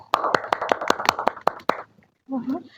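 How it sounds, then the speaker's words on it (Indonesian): A small audience claps in a quick, uneven burst of close applause, about a dozen distinct claps over under two seconds, followed by a short pause and then a voice speaking. "Tepuk tangan."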